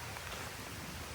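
Steady rainfall during a rainy day out, a continuous dense hiss of drops with no voices or distinct events.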